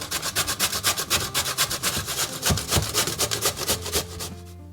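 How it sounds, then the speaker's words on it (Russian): Fresh pumpkin rubbed over a fine or medium kitchen grater, a close, steady back-and-forth rasping in even rhythmic strokes that continues alone for the whole stretch. "Ее будем натирать на мелкой или на средней терке."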